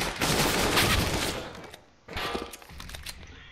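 Gunfire in the video game CS:GO crackles in a dense burst of shots, pauses briefly, then resumes in a second rapid volley, loud and close throughout.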